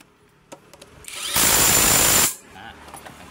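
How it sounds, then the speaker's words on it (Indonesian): Power tool tightening a nut on a Honda Beat scooter during drive belt installation, a single loud close whirring burst of about a second between quiet workshop clicks. "Baru kita kencangkan."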